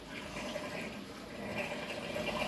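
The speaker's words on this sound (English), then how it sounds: "Now watch how fast this drains." Steady rushing of water pouring and draining into a DIY aquarium sump filter, a continuous broadband wash that holds even and close throughout.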